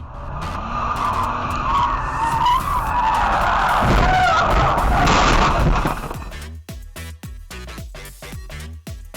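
VW Jetta shoved by a swerving Toyota FJ Cruiser, skidding and spinning until it strikes a stop sign: a loud, sustained tire screech and roar for about six seconds, then a rapid series of sharp knocks and clatter as it stops.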